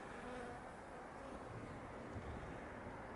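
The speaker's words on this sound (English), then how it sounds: "Got a bee next to me that obviously isn't happy with my presence there." A bee buzzes close by near a beehive in a wintering setup, a faint, continuous droning hum against quiet outdoor background with no talking.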